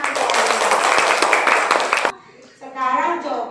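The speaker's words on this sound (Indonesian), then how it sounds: "Tepuk tangan biar tambah semangat." A class of children claps hands together for about two seconds, a dense burst of quick overlapping claps that stops abruptly, followed by a teacher speaking.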